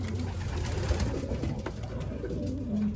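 Racing pigeons at a loft after an old-bird race coo softly and repeatedly against a dull, rumbling outdoor background, close but fairly faint.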